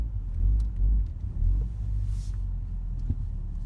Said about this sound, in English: So we're gonna go on a little spin for this test drive.